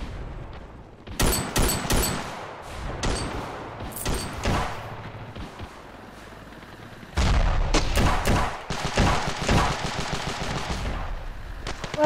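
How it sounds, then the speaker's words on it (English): Gunfire in the video game Ravenfield: loud bursts of automatic weapon fire and single shots, with clusters of sharp cracks, a quieter lull, then a sustained, rapid volley toward the end. "Well, the gunshots."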